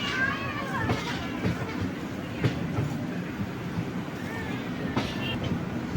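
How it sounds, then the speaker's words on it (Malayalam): A passenger train on the Ernakulam–Guruvayur route rolls across points, giving a continuous rumbling roar with rhythmic wheel clatter and a few metallic squeals, heard from inside the carriage. "ട്രാക്ക് മാറുകയാണ് നമ്മുടെ ട്രെയിൻ കുട്ടൻ."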